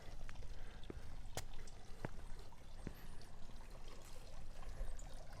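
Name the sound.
small garden water fountain trickling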